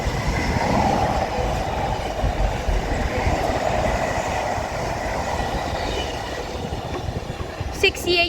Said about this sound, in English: passing through is going to be a freight Class 66 68001.